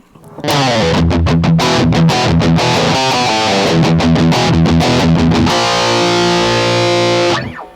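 Electric guitar driven hard through an EHX Metal Muff Pocket distortion pedal with scooped mids and high gain, playing loud, choppy chugging riffs, then ringing out a sustained chord until it cuts off near the end.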